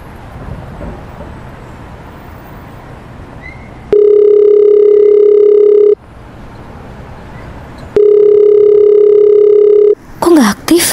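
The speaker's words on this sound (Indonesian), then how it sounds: "Aku coba telepon deh." Phone call tones in the Sakura School Simulator video game: two long, loud, steady ringback tones with quiet gaps between them, then short chirpy electronic blips at the end.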